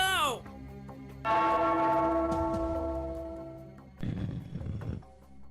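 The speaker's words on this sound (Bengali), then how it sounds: "ওই ঘন্টাটা বাজাও, বাজাও" A cartoon bell rings out with one loud, ringing tone that slowly fades over a few seconds, followed by a burst of other cartoon noise.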